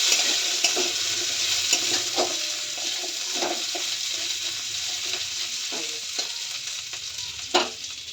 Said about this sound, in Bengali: আলুটা একটু ভাজা ভাজা হোক, ঢেকে দিলাম।